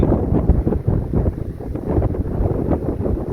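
Strong wind gusts buffeting the microphone outdoors, a loud, continuous low roar with fluttering rises and falls, close and unbroken, with no talk.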